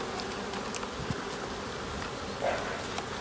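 Honeybees from an opened hive during an early spring inspection hum in a dense, steady swarm buzz close by, with a few louder passes near the microphone.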